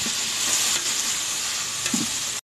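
Tomatoes go into golden fried onions in a hot pan, a loud, steady sizzle and crackle of frying with brief stirring bumps, close up and with no voices.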